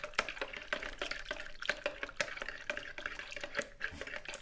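Strawberry jelly from a Bird's trifle kit stirred in a bowl of liquid, a close, rapid series of wet sloshes and spoon taps in a quick irregular rhythm, no talking.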